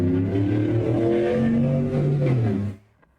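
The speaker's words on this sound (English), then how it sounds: "That was someone just with a very loud engine" A car engine with a very loud exhaust revs hard outside, a steady harmonic roar that rises and swells for under three seconds before cutting off abruptly, leaving near silence.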